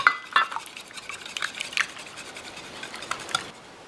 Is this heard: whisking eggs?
yes